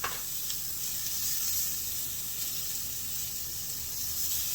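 Celery hits a hot pan and sizzles, a bright sharp burst at the start settling into a steady, loud, hissing fry that carries on evenly and close, with no talking.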